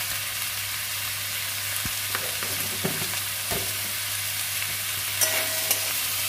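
Cumin, coriander, ginger and dried chilli paste fry in a pan with a steady hiss, broken by a few sharp stirring scrapes and light clicks from a utensil, with no voices.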